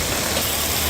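Heavy rain pours steadily during road tarring work in Thrissur, a dense, unbroken hiss of downpour at a constant loud level with no other sounds standing out.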